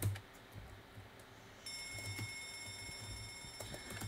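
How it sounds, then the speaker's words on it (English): A video game alarm starts ringing partway through, a steady electronic ring with a ticking clock-like quality that holds to the end. No one speaks. "I'm ringing left alarm."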